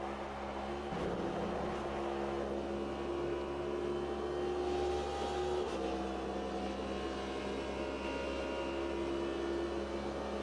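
A race car lapping in Automobilista 2, a steady engine drone at sustained revs with a couple of gear-change shifts, fairly quiet, with no talk.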